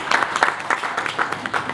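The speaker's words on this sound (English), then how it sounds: "I wish you would clap for that." An audience at a community leadership address claps briefly, a patchy scattering of hand claps at moderate volume.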